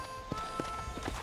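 Horse hooves clip-clopping in the Red Dead Redemption video game, a few moderately loud hoofbeats at an easy walking pace over a steady background hum.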